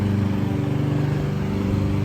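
A lawn mower runs somewhere in the distance, its engine a steady low droning hum that carries on without a break.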